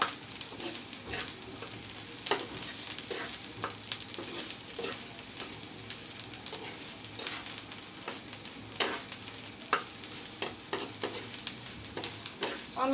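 Bottle gourd peel mash stirred and fried in a pan: a steady low sizzle with repeated scraping strokes of a spatula at an irregular rhythm, close and moderately loud, no voices.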